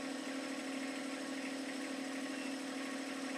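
A John Deere 1025R compact tractor fitted with a grapple runs at wide open throttle, a steady continuous engine drone with even vibration throughout, moderately distant and without talk.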